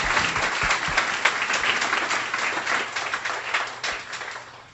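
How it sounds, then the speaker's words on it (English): Graduation ceremony for guide dog teams, where the audience gives a warm round of applause to the puppy raisers, a crowded, continuous clatter of clapping with a few sharper individual claps standing out. "A warm round of applause to all the puppy raisers in the room"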